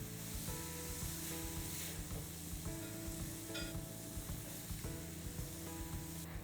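Garlic and ginger sauté with onion paste in a pan, a steady close sizzle broken by regular scraping stirs, fairly faint overall with no speech.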